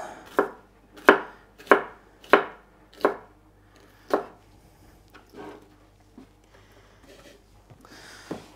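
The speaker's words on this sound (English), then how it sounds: "And the other half I'll cut into little ribbons for salad and my grain bowl." A kitchen knife chops vegetables into thin ribbons for salad, six sharp, evenly spaced cuts on a board followed by softer, scattered taps near the end, close and alone.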